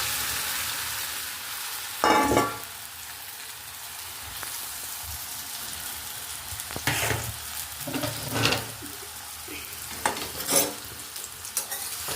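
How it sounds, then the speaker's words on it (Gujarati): Tadka sizzling as spices temper in hot oil over dhokla. A bright sizzle runs throughout, with sharp crackling bursts near two seconds and again around seven, eight-and-a-half and ten-and-a-half seconds. "ચાલો હવે તડકો મારી દઈએ."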